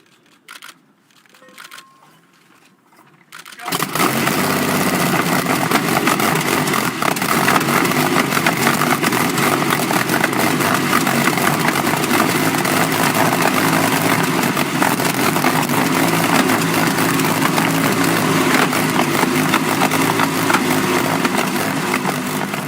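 The 1933 Napier Railton record car's 24-liter Napier Lion W12 engine fires after a few quiet seconds, then settles into a loud, steady, rough low-revving idle that continues unbroken to the end.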